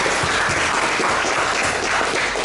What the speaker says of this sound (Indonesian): Oke, tepuk tangan buat Anda.